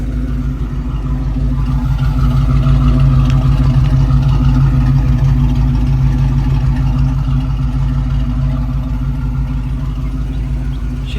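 A Fox Body car engine idles steadily and fairly close, a smooth low rumble that holds even throughout with no revving and no voices.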